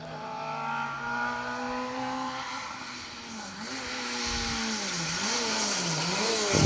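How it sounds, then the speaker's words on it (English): Rally cars run an asphalt stage: engines climb through rising revs with gear changes, at first distant and then growing louder as a car approaches. No one speaks. "I can hear cars in the stage though, so we have got some cars due in."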